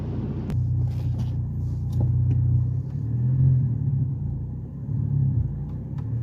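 A manual transmission car engine hums low and steady as it gently accelerates, a muffled rumble heard from inside the car with light clicks over it.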